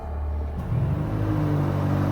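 BMW XM plug-in hybrid in Sport Plus mode as its engine kicks in: a low, steady rumble swells up partway through and keeps droning loudly, close by and without talk.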